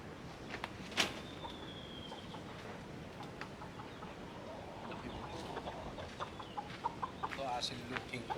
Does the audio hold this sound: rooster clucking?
yes